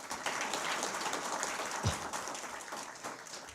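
Audience applause welcoming a panel at an AI in healthcare event in India, steady dense clapping filling the hall throughout at moderate level.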